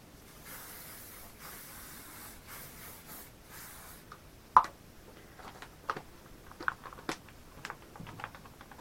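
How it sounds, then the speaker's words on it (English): Tresemme Salon Untouchable Feel hairspray misted onto long hair during braid styling, a steady close hiss of spray lasting several seconds, then quieter handling taps and rustles afterward. "And just spray that."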